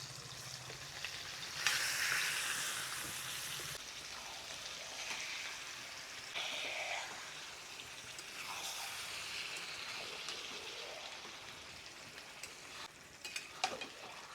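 Marinated mutton fries in a pan with onion and turmeric, giving a steady close sizzle that surges into louder hissing bursts as the meat is stirred, with no talking.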